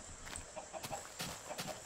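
Faint, repeated clucking of a chicken in Minecraft, soft and a little distant, over low background noise.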